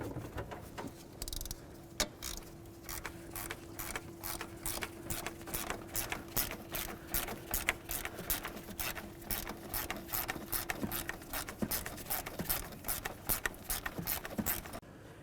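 Rapid, evenly spaced ratchet clicks loosen 13mm ignition coil mounting bolts on a 1992-99 GMC K1500 truck. The quiet mechanical ticking continues without pause and no one speaks.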